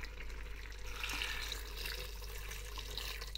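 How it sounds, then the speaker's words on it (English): Water is added to a pot of trotter (paya) soup, a soft continuous pouring and splashing heard fairly faintly over a steady low hum. "And now it's time to add some water in it."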